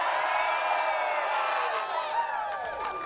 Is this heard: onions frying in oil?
no